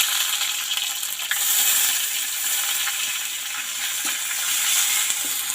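Onion paste frying in a cooking pot over a wood fire, a steady hissing sizzle with occasional small crackles and pops throughout.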